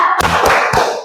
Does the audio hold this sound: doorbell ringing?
no